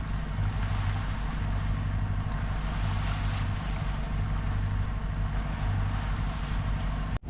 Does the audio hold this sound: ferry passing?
yes